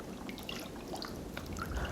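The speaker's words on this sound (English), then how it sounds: "I pour water down each arm, down the slopes of my shoulders" Bath water poured down the arms and over the shoulders, a soft, close trickle and splash that runs steadily for a moment against quiet water.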